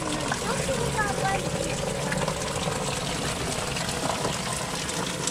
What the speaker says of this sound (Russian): Смотрите, вода капает.